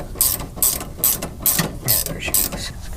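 Ratchet wrench turning to adjust coilover height on a Honda Prelude, close and loud, with about seven quick clicking strokes in an even rhythm.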